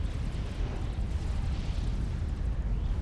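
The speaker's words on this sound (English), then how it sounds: "Another nuke out of this launcher in the back that has 209 kills to its name" Nuke launch and blast in Supreme Commander, a loud continuous roaring rumble that holds steady through the whole stretch with no voices.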